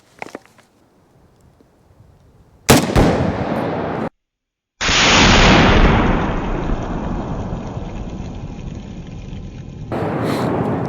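Two loud, sharp gunshots from an FN SCAR 17 rifle at an outdoor range, the first around the third second and a longer-ringing blast near the fifth, each trailing off in echo, with a fainter shot at the end.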